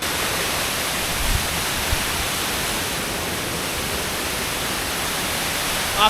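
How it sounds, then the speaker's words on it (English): A rushing mountain waterfall in Colorado roars as a steady, dense broadband wash that holds level from start to finish, with no voices. "But look at that waterfall. That thing is rushing."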